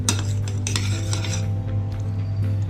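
A spoon scrapes and clinks against a bowl as oats with milk are mixed. Several quick taps come early, then they fade to softer stirring over a low steady hum, with no talking.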